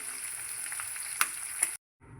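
Sardines sizzle and crackle steadily in hot oil in a pan after being turned, with a couple of sharp pops before the frying cuts off abruptly.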